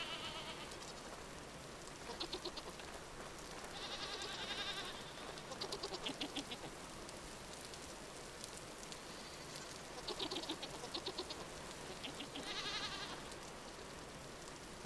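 Goats in a Vintage Story survival game bleat in several short, faint calls spread through a quiet ambient bed that sounds like soft rain.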